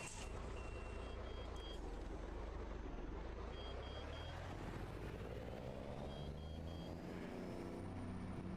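Trucks in Euro Truck Simulator 2, driven in a modded convoy from Zaragoza, Spain: a low, steady diesel rumble runs throughout while repeated high reversing beeps sound in short bursts, no voices.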